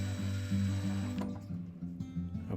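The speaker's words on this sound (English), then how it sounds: "Then it's time to screw them in." Guitar tuning machines being screwed in with a power driver: a steady, close mechanical whir with a rhythmic low hum that cuts off partway, followed by ratcheting, stop-start motor pulses.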